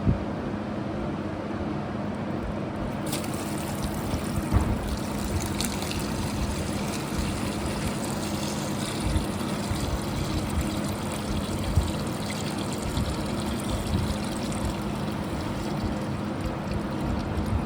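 Water drains from a part of a 1969 C30 truck in a steady trickling stream for a long stretch, close and continuous with small splashes.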